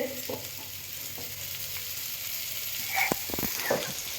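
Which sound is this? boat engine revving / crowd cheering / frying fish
frying fish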